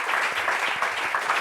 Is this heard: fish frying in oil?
no